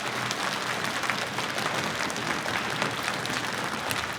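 A steady round of applause from the members gathered at an OutdoorLads annual general meeting, dense and even throughout with no one speaking over it.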